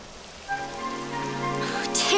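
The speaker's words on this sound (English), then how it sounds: "It would have to go and start raining, wouldn't it?" Rain begins falling in the fantasy game Dragon Quest XI, a soft hiss that swells toward the end, layered over a steady tonal music bed with sustained notes.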